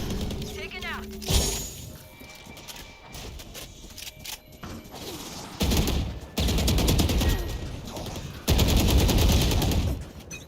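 Gunfire from a Valorant pro match, DRX vs FNC at Champions Seoul, crackling in short bursts and rapid volleys that swell into loud sustained fire toward the end, mixed under excited commentary.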